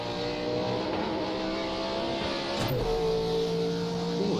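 A Mitsubishi race car engine roars steadily in a Nürburgring racing video game, with a sustained harmonic drone and a brief pitch shift as it shifts or passes near the middle, staying loud throughout.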